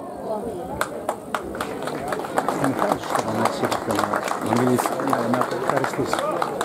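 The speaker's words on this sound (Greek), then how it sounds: "Τώρα θέλω δυνατό χειροκρότημα για αυτή τη γυναίκα" Crowd applause and clapping at an honorary evening event in Kefalovrysi, Viannos, steady and dense throughout, with voices and cheering mixed in and a sung or spoken voice running underneath.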